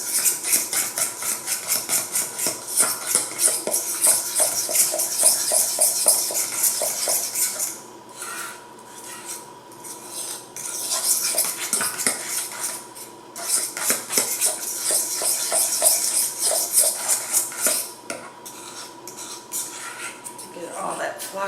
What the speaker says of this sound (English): And now we just want to mix it up really well